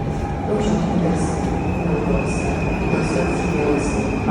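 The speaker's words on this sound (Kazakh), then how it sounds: "бул метро эмес экен, бул электричка болуп калган да" An electric commuter train at a Warsaw station rumbles steadily through the whole stretch, with wheels squealing and a sustained high tone over the low rolling roar. The sound is loud and close, and no voices are heard.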